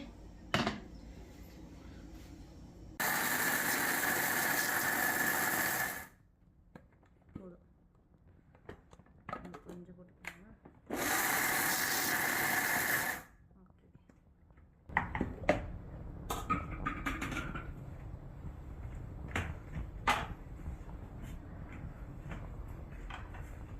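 A mixer grinder whirls roasted nuts, pumpkin seeds and raisins in two loud, steady bursts of about three seconds each, separated by quiet pauses, with kitchen clatter and a voice talking afterward.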